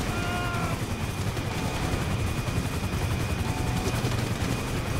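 Airplane engines drone in Grand Theft Auto 5, a dense, steady roar with a thin high whine and rapid crackling bursts, loud and continuous throughout.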